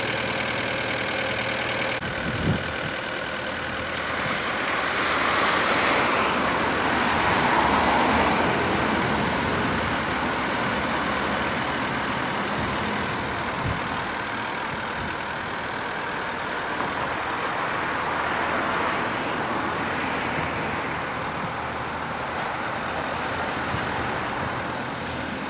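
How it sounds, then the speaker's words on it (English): Volkswagen T4 1.9 turbo diesel 800 Special pop-top campervan being moved, its diesel engine running steadily with a broad continuous rumble that swells slightly mid-way, close and fairly loud, no talking. "I will move the van further over."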